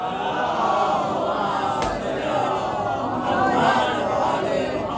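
A congregation at a majlis in Mahdiya, Bandra recites salawat together, a dense, steady wash of many voices filling the hall at fairly even loudness throughout.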